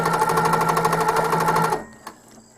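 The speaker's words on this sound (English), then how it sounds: "I'm going to stitch down along that line, and I'm going to stitch to the left and the right, back to the center." A Handi Quilter longarm machine stitches a quilt with a loud, rapid, even needle chatter that runs steadily for almost two seconds, then cuts off, followed by a small click.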